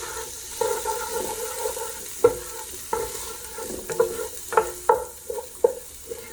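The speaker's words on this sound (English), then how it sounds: "I need these onions to cook down a little bit" Onions cooking down in a pan for baked beans give a low sizzle under repeated spoon stirs and scrapes, several distinct clanks rising over the steady frying noise.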